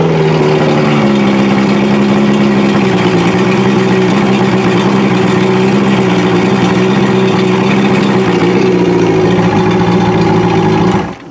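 An outboard motor runs steadily at a fast idle while warming up after being restarted, a loud continuous droning hum with a slight wavering pitch, cutting off abruptly at the end.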